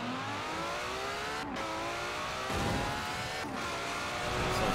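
A red Ferrari's engine roars in Forza Horizon 4, a steady loud drone with harmonic lines climbing through gear shifts, swelling into rising revs near the end, no voices.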